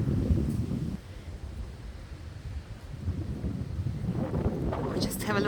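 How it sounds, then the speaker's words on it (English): Strong wind gusts rumble and buffet the microphone outdoors at Trinity Monastery, surging and easing in waves while a person talks over it. "It's very, very windy today."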